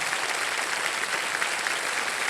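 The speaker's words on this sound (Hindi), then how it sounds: "तालियां बज जाएं" Studio audience applauding on a television quiz show, a dense, steady wash of clapping that stays loud and even throughout with no voices over it.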